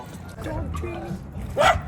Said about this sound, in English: they were both barking